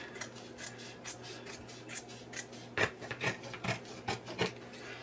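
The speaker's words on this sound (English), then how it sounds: "Alright, so I've trimmed the felt." Scissors trim felt for a quilted Christmas tree potholder in a quiet room, making soft, close rasping snips that repeat in an uneven rhythm and grow a little firmer toward the end.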